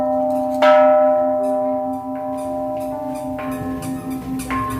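A temple bell at a Thai Buddhist temple is struck several times, each strike ringing out with a long, shimmering resonant tone that lingers and overlaps, close and clear.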